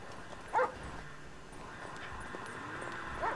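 A dog lets out a couple of short, faint yelps or whimpers, one early and another near the end, over a quiet background hiss.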